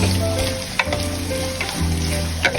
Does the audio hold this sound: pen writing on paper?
no